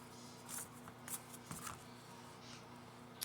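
Tarot cards riffle and slap together in a few quick bursts of shuffling, soft and close, with quiet pauses between the strokes.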